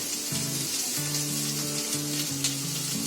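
Potatoes with coconut and fasting salt fry steadily in a pan for a fasting masala dosa filling, giving a constant close sizzle with faint stirring and a quiet tonal hum underneath.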